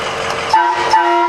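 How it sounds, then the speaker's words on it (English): Two short blasts of a loud air horn on a 2005 Ford E450, each sounding clearly over a steady background rumble. "Oh, that's the air horn."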